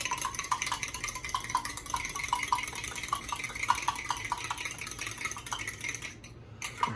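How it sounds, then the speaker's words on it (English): Eggs are whisked evenly in a bowl for a burrito omelet, quick metallic ticks of the whisk repeating in a steady, fairly fast rhythm, close and moderately quiet, fading briefly near the end. "Then you just whisk it evenly."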